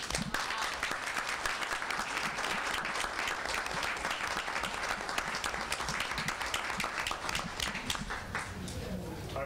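Sustained audience applause at a school board meeting, many hands clapping in a dense, even roar for several seconds with a few voices mixed in.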